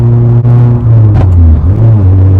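Honda Jazz fitted with a K20 Type-R engine accelerating hard, a loud, steady engine drone that climbs in pitch with a couple of brief dips as it pulls through the gears, heard from inside the car.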